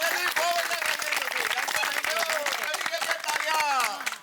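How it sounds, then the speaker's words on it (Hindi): Residents clap in steady, dense applause that carries on throughout, with voices talking over the clapping. "आप सब अपने लिए जोरदार ताली बजाइए"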